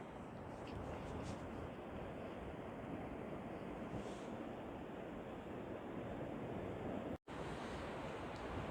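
Sea waves wash onto La Isla beach in Colunga, Asturias, a soft, continuous surf roar heard from close by, broken only by one brief dropout.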